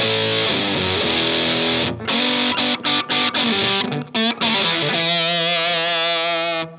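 Electric guitar played through a classic fuzz pedal, a thick, frothy overdriven tone with sustained chords, choppy stabs midway, then a long ringing held note.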